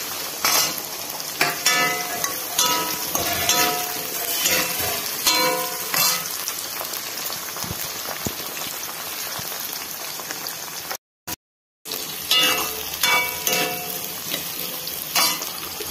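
Potatoes and small shallots sizzle steadily in a hot pan for a prawn curry, with repeated stirring scrapes throughout and a brief silent gap near the end before the frying resumes.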